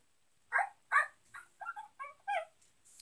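Minecraft dog barking and whimpering, a run of about seven short yips and whines in uneven rhythm, close and fairly clear with no talk over them.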